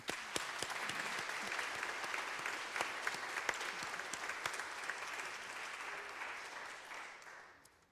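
Audience applause for the musicians at a performance, a steady wash of clapping from a crowd that holds for most of eight seconds before tapering off.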